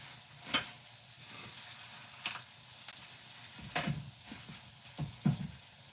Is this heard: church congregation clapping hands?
no